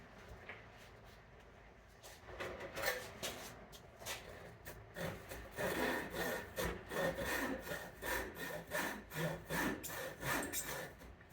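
Hand saw cutting a wooden tenon for a large cat tree, slow strokes at first and then a steady rhythmic back-and-forth rasp, close and fairly quiet.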